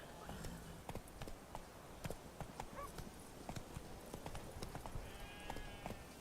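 A horse gallops in The Witcher 3, rhythmic clip-clop hoofbeats pounding steadily at close range with a brief whinny, faint game sounds behind them.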